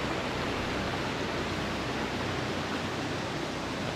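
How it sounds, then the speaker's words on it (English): Turner Falls, a waterfall in an Oklahoma park, rushes in a dense, unbroken roar of falling water that holds steady at moderate loudness throughout. "and a waterfall."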